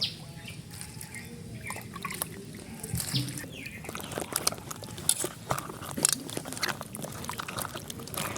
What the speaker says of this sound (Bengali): বেগুনগুলো এখন আমি সুন্দর করে কচলে কচলে ধুয়ে নেব।